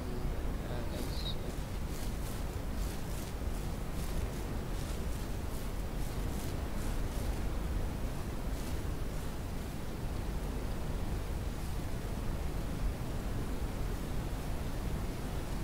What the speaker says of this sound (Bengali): হাওয়ার শব্দটাও তোমরা শুনতে পাবে